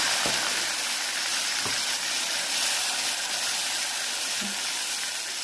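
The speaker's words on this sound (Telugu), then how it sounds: "ఇప్పుడు కొంచెం వేయించుకోవాలి. ఉల్లిపాయలు కొంచెం వేగి వరకు వేయించుకోవాలి." Ground onion, ginger and garlic paste frying in a pan, a steady loud sizzle with a few soft clinks of a spoon against the pan and no talk.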